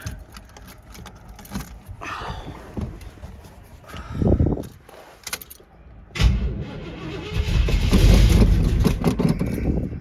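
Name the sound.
1979 Chevrolet Suburban engine being started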